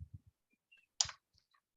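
A single sharp computer mouse click, close and fairly quiet, with a few soft low thumps just before it and faint small ticks after, heard while navigating Oracle Cloud ERP software.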